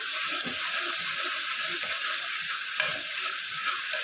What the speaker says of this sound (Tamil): இஞ்சி பூண்டு போட்டதும் அடுப்பை வந்து சிம்மில் வச்சிடணும். நல்லா கை எடுக்காமல் கிண்டிக்கிட்டே இருக்கணும்.